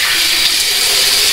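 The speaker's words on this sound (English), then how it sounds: "I'm gonna wash my head again" Steady, loud running water from a tap while a freshly shaved head is rinsed, a continuous hiss with no pauses.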